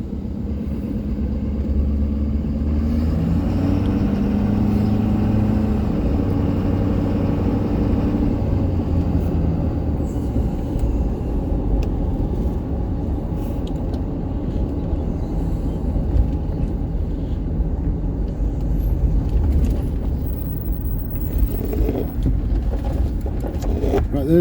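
A vehicle rolls slowly through a Tennessee River campground, its engine a steady low rumble with road noise throughout, voices talking over it.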